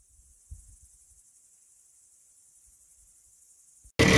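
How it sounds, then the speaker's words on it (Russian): Crickets chirp in a field at night, a dense, steady high trill that runs nearly unbroken and is joined by faint low rumbles. A sudden loud burst of noise cuts in at the very end. "Остановился сейчас в поле, чтобы вы послушали пение сверчков."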